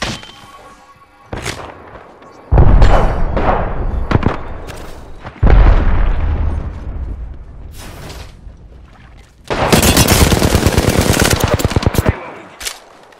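Gunfire in the shooter game Apex Legends arrives in several loud separate bursts and single shots, ending in a long rapid automatic volley, with no talking.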